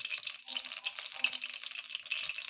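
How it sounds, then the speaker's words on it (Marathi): Oil heats in a hot kadhai with a soft, steady sizzle and crackle, faint and close, pulsing gently with small pops throughout. "चला आता कढई गरम झालेली आहे, त्याच्यात तेल टाकूया आपण"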